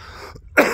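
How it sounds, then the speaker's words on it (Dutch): A single harsh cough from a person with a scratchy throat bursts out near the microphone after a short silence. "Ik heb echt enorm hoest."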